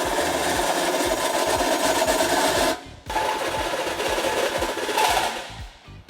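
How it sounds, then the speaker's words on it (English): A drill enlarges the inner hole in a bumper beam bracket on a 2011 Ford Taurus during a trailer hitch installation, giving a steady, close grinding whir that stops briefly partway through and then picks up again. "Next, we will enlarge the inner hole on both bumper beam brackets."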